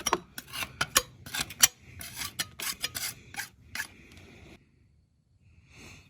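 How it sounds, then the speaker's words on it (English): A putty knife scrapes caked dirt and grime off the rear end of a Ford 8N tractor, giving a run of close, rasping strokes in irregular bursts that stop, followed after a quiet gap by one last faint scrape. "I'm just gonna take the old putty knife and clean some of this crap off, all this dirt and junk out of here."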